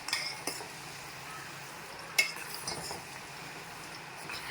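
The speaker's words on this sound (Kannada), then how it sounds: "ಎಣ್ಣೆ ಎಲ್ಲ ಸಿಡಿತಾ ಇರುತ್ತೆ, ಅದಕ್ಕೋಸ್ಕರ." Onions frying in oil in a large pan, with a soft steady sizzle beneath faint spatters and a few light metallic clinks of a stirring utensil against the pan, close and quiet, with no talking.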